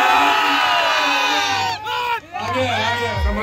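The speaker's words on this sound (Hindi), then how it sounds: "जोरदार ताली, जोरदार ताली होनी चाहिए" A large crowd shouts and cheers loudly at the final match of a village sports event in Agraul, Hasanpur, Bihar, with a voice-heavy roar that swells and dips over a few seconds.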